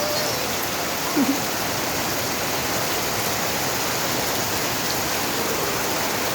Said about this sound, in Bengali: বছরের প্রথম বৃষ্টিতে ফাইজান আর ফাইজানের বাবা ঢুকলো।